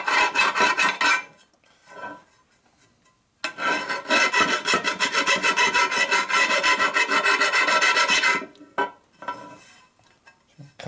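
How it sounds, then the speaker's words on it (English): A flat file deburrs a cracked inner primary on a 1997 Harley Dyna FXDG, with long loud continuous rasping strokes close up, separated by short pauses and a few shorter scrapes. "even though it's a flat file, it'll still deburr"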